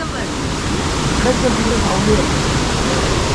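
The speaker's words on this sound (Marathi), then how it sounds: "हा आपला डुबवसा दोन्ही बाजूने वाहतोय बघा" Continuous rushing of a forest stream in the Konkan region during the rainy season, loud and close, a broad steady wash with no pauses.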